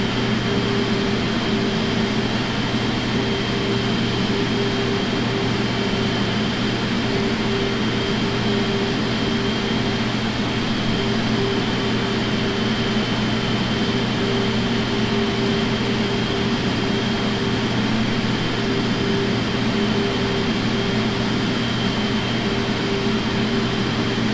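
Boeing 777-300 engines roar through a takeoff roll in the Prepar3D v4.3 flight simulator, a steady loud drone with low hum and constant whine, unchanging and without voices.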